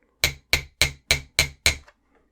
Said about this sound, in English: if you have a hammer and block, we're going to go ahead and we're going to flatten about 1/4 inch here at the very end